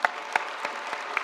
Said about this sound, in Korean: 예수님께 영광의 박수 올리겠습니다